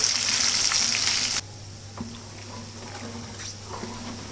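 Ginger frying in oil in a pan for mango pickle gives a loud, dense sizzle that cuts off abruptly after about a second and a half, leaving a faint low simmer with a few soft clinks.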